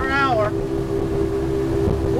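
A 2003 Sea Fox 257 WA motorboat's Mercury EFI outboard engines drone steadily at about 37 mph under rushing wind and water noise, with a brief voice at the start.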